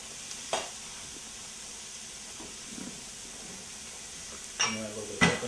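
Onions and mushrooms sizzle steadily in a pan as a soft, constant hiss, broken by a few clinks and scrapes of utensils against the pan near the end.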